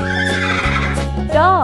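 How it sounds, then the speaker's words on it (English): A single horse neigh, a loud, close whinny that rises and wavers into a quivering sweep at its end, set among the sounds of a farm-animal game. "Horse"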